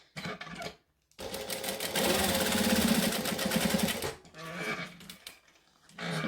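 Sewing machine stitching down the sides of a fabric wallet: a short burst of needle chatter, a pause, then a long steady mechanical whir lasting a few seconds before stopping, followed by quieter handling sounds, close and fairly faint.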